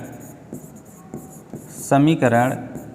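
Pen or chalk scratching out a math equation in short strokes and taps, with someone speaking over the later part.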